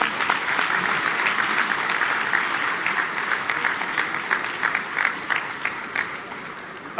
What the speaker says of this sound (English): A big round of applause for our Sadhguruji.